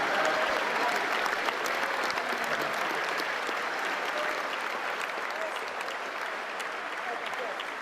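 Sustained applause fills the chamber at the 2020 State of the Union address, a dense, even roar of many hands clapping throughout, slowly easing toward the end.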